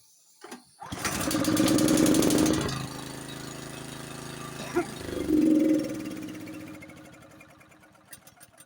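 A flooded Honda snowblower engine is electric-started, cranking and catching into a loud rough run, then dipping before a second surge, and finally settling and fading toward the end, heard up close.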